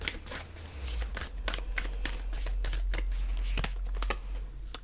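Tarot cards being shuffled for a reading: a quick run of crisp riffling bursts and flicks, close and fairly loud, repeating irregularly with a low background hum.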